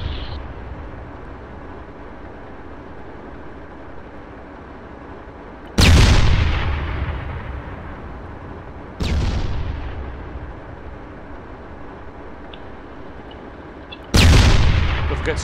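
Three loud, booming artillery shots from a gun battery in the military game Arma 3, each a sudden heavy blast with a long decaying rumble, spaced several seconds apart over quiet background.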